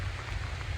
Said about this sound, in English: the rain's coming down harder again now